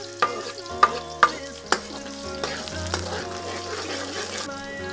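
Garlic added to a hot pan while cooking pork kare-kare, a Filipino peanut stew: a light sizzle with several sharp utensil clacks early on, over a steady tonal backdrop.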